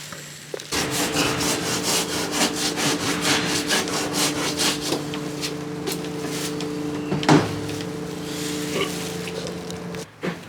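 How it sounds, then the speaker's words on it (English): Close, rhythmic rasping strokes of sandpaper worked back and forth over hard, coarse filler putty, steady and continuous, with a low electrical hum underneath. "I'm going to start sanding it down, try and make it smooth"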